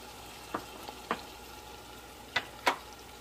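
Minced meat fries with spices in a pan for qeema pulao, giving a steady close sizzle with a few sharp stirring scrapes rising above it.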